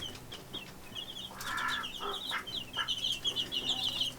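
Chickens cluck and chatter close by while digging in garden dirt, a series of short, bright calls repeating over a quiet outdoor background.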